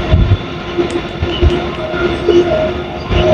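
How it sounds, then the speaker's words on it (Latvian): A freight train rolls past at a rail site near Jena, Germany, a steady rumbling wagon noise with low thumps and faint clatter, fairly loud and continuous throughout with no talking. "Kravas vilciens."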